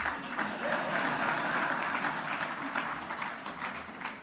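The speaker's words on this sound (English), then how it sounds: "Don't be afraid to clap." An audience claps together at a news event, a dense, even wash of applause at moderate distance that holds steady throughout without much rise or fall.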